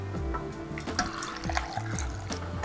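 Water is poured into a pot holding pear, red dates and goji berries, a soft close trickle and splash with gurgling bursts, fairly quiet and without talk.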